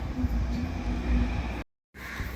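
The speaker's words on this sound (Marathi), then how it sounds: "आता मी हे सगळं मिश्रण जाडसर असं मिक्सरला वाटून घेणार आहे" An electric mixer grinder runs steadily, coarsely grinding fried ladoo ingredients, a loud continuous whirring that cuts off abruptly for a moment before restarting.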